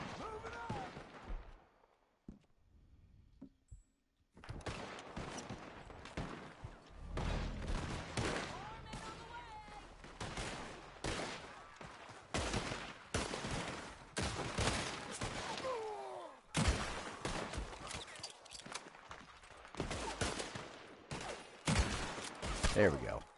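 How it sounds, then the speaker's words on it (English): Gunfire in the western game Red Dead Redemption 2: repeated sharp shots and bursts of volleys, loud and close, coming in irregular clusters after a quiet opening, with a voice talking now and then between them. "but getting shot at"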